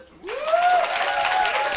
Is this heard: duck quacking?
no